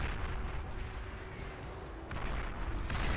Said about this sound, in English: They're just kind of bombing a general area.